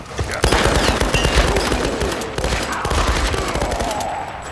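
Rapid sustained gunfire in the Tomb Raider video game, a loud close barrage of rattling automatic shots that runs nearly unbroken, with dense overlapping bursts and no pause.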